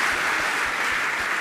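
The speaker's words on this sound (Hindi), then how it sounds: "आपकी तालियां बहुत कम बजती, अच्छे से बजाइए।" An audience at a Jain monk's discourse claps in a continuous, even wash of applause, moderately loud and without any voice over it.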